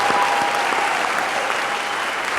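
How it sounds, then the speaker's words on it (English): Audience applause at a Shawnee High School student awards ceremony, a steady dense wash of clapping from a large crowd, loud and continuous throughout with no talking. "a nice round of applause for all of our students who are recognized here"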